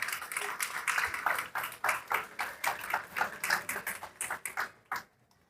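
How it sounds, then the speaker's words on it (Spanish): A church congregation claps loudly together in worship, a dense run of hand claps with uneven rhythm that keeps going for about five seconds and then stops abruptly into quiet. "Denle un aplauso fuerte ahí a Dios"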